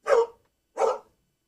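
A dog barks twice, about half a second apart, each bark loud and close with nothing else audible around it.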